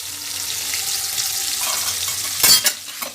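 Tomatoes stirred into fried potatoes in a pan, cooked over gas turned a bit above low, make a continuous sizzle with a low background hum, then a cluster of louder scraping and clattering stirs near the end.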